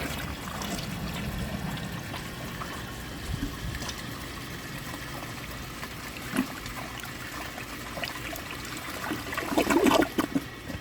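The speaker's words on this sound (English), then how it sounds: "I think a second flush will clear the rest of this out completely" A 1991 Kohler Wellworth toilet flushing, with a continuous rush and swirl of water draining through the bowl and a gurgle near the end, heard close and fairly loud.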